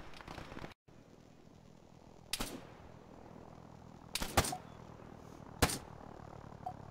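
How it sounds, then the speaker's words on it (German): Sharp, isolated gunshots in a jungle combat video game crack out three times at irregular intervals over a quiet, faintly noisy background. "Was für ein Schuss."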